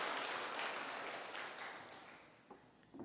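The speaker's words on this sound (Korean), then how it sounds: "우리 다시 한번 박수로 격려하시겠습니다." A church congregation at a Korean Presbyterian Sunday service applauds in a broad wash of clapping that starts full and gradually fades away, ending with a couple of isolated taps.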